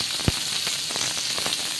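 Fish fries in a pan on a bed of curry leaves, giving a steady close hiss and crackle with a few small pops, one sharper pop near the start.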